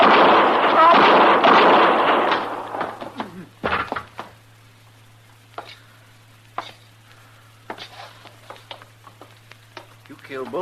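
Gunshots ring out in a 1955 Gunsmoke radio drama shootout at sundown, a loud burst of voices and shots up front giving way to several sharp, separated reports spaced across the rest of the scene.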